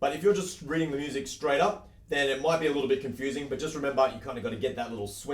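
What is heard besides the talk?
No everyday noise stands out behind the speech.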